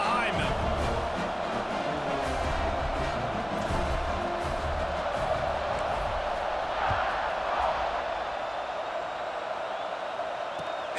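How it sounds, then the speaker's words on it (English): A stadium crowd in an American football video game roars steadily as a team with a two-touchdown fourth-quarter lead sets up for a kickoff, a dense, continuous wash of cheering that holds level from start to finish. "this crowd now ready to get behind them"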